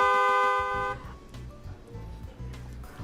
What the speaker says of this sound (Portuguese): Buzinar demais não pode.